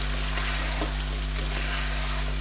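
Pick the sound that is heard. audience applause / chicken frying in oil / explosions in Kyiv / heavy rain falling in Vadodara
chicken frying in oil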